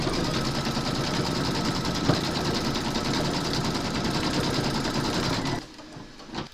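A Brother embroidery machine sews a satin stitch round, a loud, steady, rapid needle drone close up, running continuously before stopping abruptly near the end, leaving a quiet hum.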